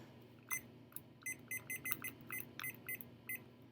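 A digital timer gives a series of short, crisp electronic beeps at an uneven pace while being set, moderately loud over faint room hiss, with no voices.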